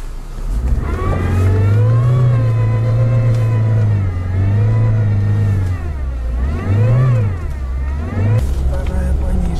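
An off-road pickup's engine revs hard and loud in repeated rising and falling surges while the truck tries to back up, with a steady low drone continuing between the bursts.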